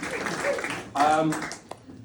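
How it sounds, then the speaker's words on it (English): Brief audience applause for a performer at an open-mic style show, a soft wash of many hands that swells midway and then fades, with talking layered over it. "That round of applause for Louis washing his hands."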